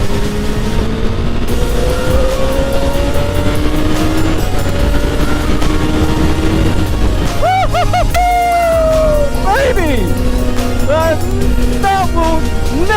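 A motorcycle engine heard while riding, droning loud and continuous with rising and falling revs as gears shift, a sharp drop and climb partway through, with some speech over it.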